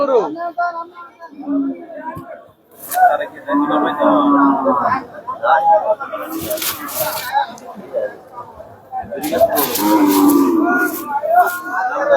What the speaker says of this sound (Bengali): সকালবেলা কিন্তু কয়েক হাজার গরু আসছে এখানে অনেক গরু আজকে